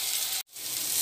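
Green chili paste drops into a pan of frying potato and papaya, a loud steady sizzle cut by a brief hush as the paste lands, then the frying hiss swells back up close by.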